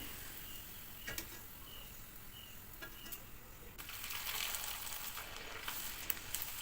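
Rice flour pitha frying in hot oil, a soft, steady sizzle that swells slightly in the second half, faint and close with no talking.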